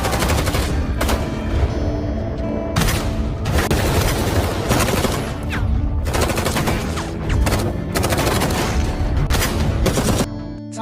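Gunfire exchange in an action film about special forces fighting a mafia gang: loud bursts of rapid automatic fire and heavy shots in repeated clusters, separated by brief gaps.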